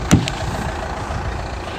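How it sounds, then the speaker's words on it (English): A car engine idling on a cold day, a steady low rumble held close and continuous after a brief louder burst at the start. "I'll get the engine running"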